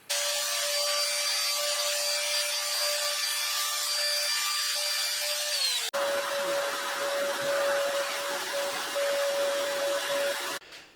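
Sanding the radius into a guitar fretboard for a scratch-built fabric-top NF-53 style Telecaster, sped up: a continuous loud abrasive rubbing hiss with steady tones, a sharp change midway, no talk.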